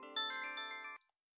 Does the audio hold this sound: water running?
no